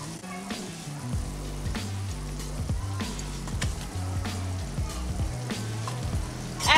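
Spice masala with red chilli powder and salt for an egg and pea curry sautés in a pan, giving a steady sizzle with light stirring scrapes beneath loud background music.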